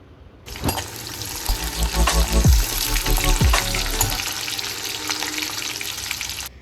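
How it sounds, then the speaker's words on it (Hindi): Garlic, capsicum and onion dropped into hot oil in a kadhai for chilli chicken gravy: a loud, crackling sizzle bursts up and stays dense, with scraping stirs and utensil clinks close by. "कढ़ाई में मैंने ऑयल लिया है, इसमें मैं गार्लिक, कैप्सिकम और ऑनियन डालूंगी।"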